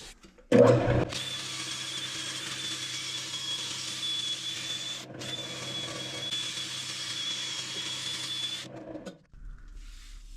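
A wood lathe spins a large wooden salad bowl as it is sanded with Yorkshire Grit abrasive, making a steady whirring hiss for about eight seconds with a brief break midway before it cuts off.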